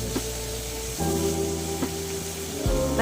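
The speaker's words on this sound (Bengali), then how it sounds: "মাছটা কিন্তু খুব একদম আমি কড়া করে ভাজছি না হালকা করেই ভেজে দিচ্ছি" Fish shallow-fries lightly in hot oil, a soft continuous sizzle with a faint underlying hum, rising slightly when the pieces are moved, close and steady with no voices.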